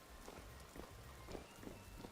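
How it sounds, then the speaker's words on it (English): Light rain falls steadily in the video game Vintage Story, a soft, faint patter with scattered drop hits and no voices. "Or has it just started to rain again?"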